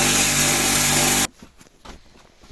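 An Elikor 1 grain crusher with a knife grinding soybean cake roars loudly and steadily, then cuts off abruptly halfway through, leaving faint rustles and knocks in a quiet room.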